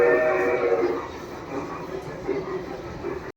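Train sound effects play inside a train-themed restaurant in Vijayawada, a continuous rumbling rail-car wash with a murmur of voices and room noise beneath it, fairly loud throughout before stopping abruptly.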